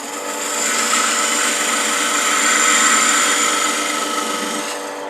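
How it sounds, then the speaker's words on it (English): A metal stub is cut on a lathe with a 1/8 inch parting tool, giving a steady high-pitched scraping whine that rises and holds for several seconds before easing off, with no talk. "take this down to an 1/8 of an inch stub with this 1/8 inch parting tool"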